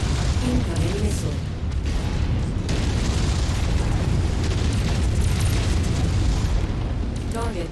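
Heavy booming blasts from a missile strike in the MechWarrior 5 mech combat game, a dense continuous roar of explosions and rumble filling the whole stretch, with some speech mixed in.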